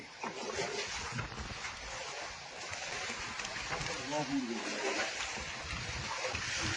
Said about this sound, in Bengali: প্রচন্ড হাওয়া বইছে, গাং উত্তাল হয়ে গেছে।